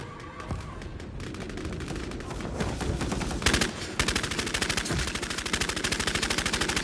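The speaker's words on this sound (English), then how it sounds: "It was two streams of bullets." Rapid automatic gunfire in the video game Bloodhunt rattles in two continuous streams, loud and sustained, with a sharper burst midway as the firing keeps going.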